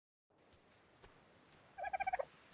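A dodo bird in a survival video game gives a quick run of about six sharp, evenly spaced gobbling clucks, fairly close and loud against quiet ambient game background.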